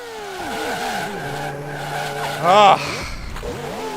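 Race car in the Grand Prix 2 video game sliding off into a gravel trap: a steady engine drone with pitch sweeps, then a brief loud burst of tire squeal and crunching gravel, with a voice talking over it.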